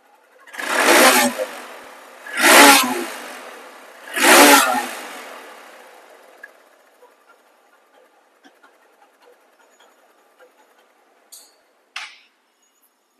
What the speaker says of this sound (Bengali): এখন বলবো বাইকটির সাউন্ড কোয়ালিটি।